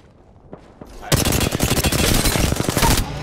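Rapid automatic gunfire in the shooter game Apex Legends bursts in loud and close after a quiet second, sustained fast shots over a dense background.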